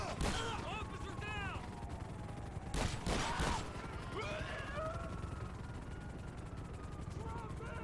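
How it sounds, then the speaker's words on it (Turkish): Bursts of gunfire crackle and several sharp shots ring out in GTA Online with a first-person mod, with police helicopters droning and sirens sweeping underneath at low volume. "İki helikopter gönderler."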